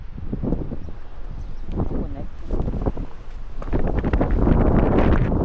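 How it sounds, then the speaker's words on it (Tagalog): Strong wind buffets the microphone on a hike up Pride Rock in a constant roar that swells louder toward the end, with voices talking underneath. "Mahangin."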